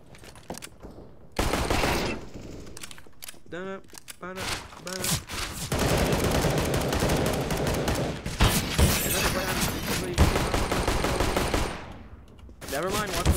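Rapid gunfire bursts from heavy weapons in the video game CS:GO, loud and repeated over several seconds with short pauses, mixed with game sounds and talk in between.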